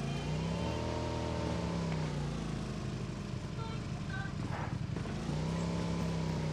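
A vehicle engine in PUBG Mobile on the Erangel map drones steadily and loudly throughout, its pitch dipping and rising as it revs, with no talking over it.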